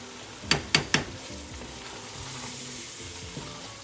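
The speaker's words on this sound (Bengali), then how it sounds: "মশলাটাকে একটু ভালো করে কষানোর জন্য দিয়ে দিচ্ছি একটু পানি" Spice paste frying in a pan with a little water as it is stirred, three quick metallic clinks of a utensil against the pan at the start, then a quiet low bubbling sizzle and faint scraping.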